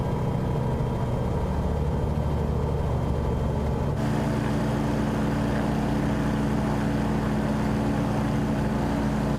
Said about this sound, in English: Now, I'm going to lower our engine speed down.